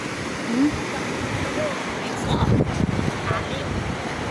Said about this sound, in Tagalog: Unang bugso ng tubig siguro to.